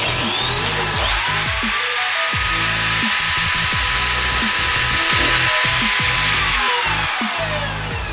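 A HiKOKI electric drill mounted on a cheap Chinese drill stand spins in reverse to score a mark before drilling. A loud motor whine rises sharply, holds steady for several seconds, then winds down, with faint knocks beneath.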